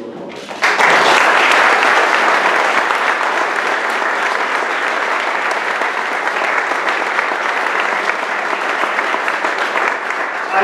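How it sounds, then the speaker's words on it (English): A banquet audience bursts into sustained applause after a short pause, a dense, even wash of clapping that holds steady and loud for about ten seconds. "So I'm going to ask you to give them a round of applause."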